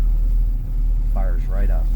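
A 1975 Pontiac Firebird engine runs with a deep, steady, close rumble just after firing up, while a person talks over it.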